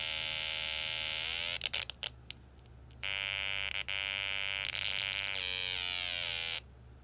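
A steady high electronic buzzing tone from a Snap Circuits toy circuit with an adjustable resistor drones, dropping out briefly amid crackly clicks and pitch sweeps, then returning before cutting off near the end.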